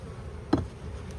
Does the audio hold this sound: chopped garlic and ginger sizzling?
no